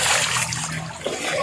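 Continuous loud splashing of running water at an outdoor bathing spot, a dense steady rush close to the listener throughout.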